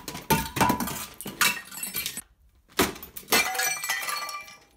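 Motorcycle helmet smashing into a glass jar, giving repeated loud cracking breaks and glassy clinks in several bursts with a short silent gap midway.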